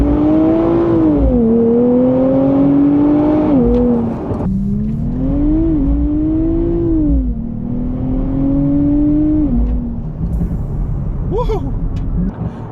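A 2024 Nissan Z Nismo engine revs loud and close, pitch climbing then dropping sharply at each gear shift, repeated through several pulls with rumble and whine underneath.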